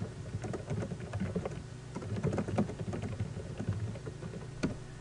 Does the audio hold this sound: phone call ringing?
no